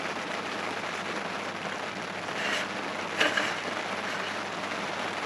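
Rain patters on an overlanding campsite in Arizona beside a 4Runner, a soft steady hiss with a few faint louder drops.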